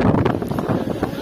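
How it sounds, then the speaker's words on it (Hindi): Strong wind buffeting the microphone outdoors, a loud, gusty low rumble with rapid irregular surges throughout. "भाई, इतनी तेज हवा चल रही है कि मैं आपको क्या बताऊं।"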